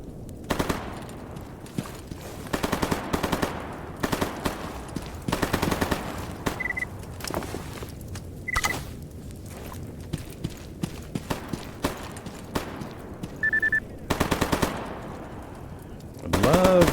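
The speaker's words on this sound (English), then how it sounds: "He's shooting at mutants." Gunfire in the video game STALKER GAMMA comes in repeated bursts of automatic shots, some near and sharp, others fainter, with short gaps between volleys.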